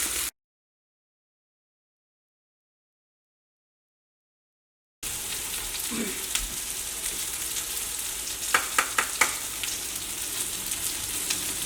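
Tomatoes sauté in a pan for a chilli chutney, a steady low sizzle after a short silent gap, with a few sharp crackles and spatters near the end.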